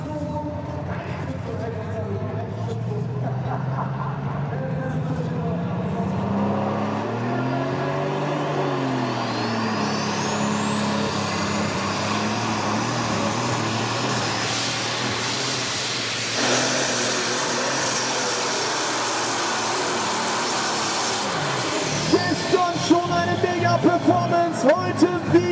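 Mad Max tractor-pulling truck with a DAF truck engine of about 4,500 horsepower and three turbochargers roaring through a qualification run, a loud sustained drone with rising turbo whine, while an announcer talks over it.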